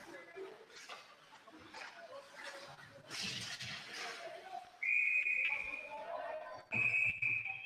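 Sharp referee whistle blasts at an ice hockey game between Avon Grove and Downingtown West, two loud steady shrill tones near the end over crowd and rink noise and a commentator talking.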